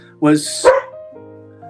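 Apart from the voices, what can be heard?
border collie dog barking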